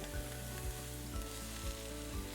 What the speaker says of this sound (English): Now add in your ground meat